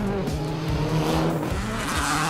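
A rally car roars hard through a corner on a rally course, its engine note rising and falling through quick revs while tires scrub and squeal, loud and close for a brief burst.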